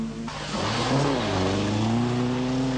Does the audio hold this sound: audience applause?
no